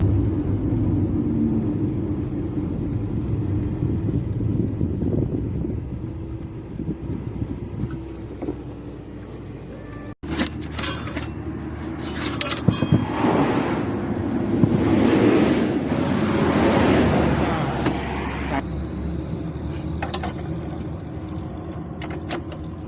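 A Honda Civic on a motorway test drive at about 135–140 km/h: a steady interior road rumble with wind roar that swells louder and brighter partway through, with no voices.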